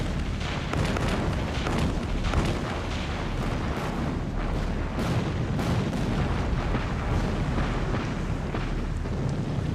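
Naval cruiser guns firing in a night battle at sea, a dense continuous barrage of booming, rumbling blasts that stays loud and sustained throughout, with no voices.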